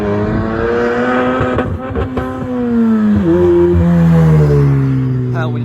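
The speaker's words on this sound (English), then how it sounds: "At low RPMs, it sounds like it's like a diesel truck, a turbo diesel." Honda Civic Type R FK8 with an open front pipe exhaust revs loudly and close, a deep droning rumble rising and falling in pitch across several throttle blips, with people talking faintly nearby.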